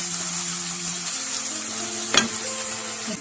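Chopped onions saute in hot oil, a continuous close sizzle with one brief clatter of stirring partway through.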